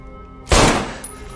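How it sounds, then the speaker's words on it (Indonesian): A single sharp gunshot from a film cracks out loud and close, then a brief echoing tail fades over the next second. "Dan akhirnya Edward melepaskan tembakan."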